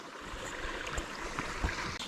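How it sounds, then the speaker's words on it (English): Stream water gurgles and splashes steadily while a bag is filled for backpacking water near the Old Loggers Path in Canton, Pennsylvania, a close continuous wash with small bubbling bursts and no talking. "Water."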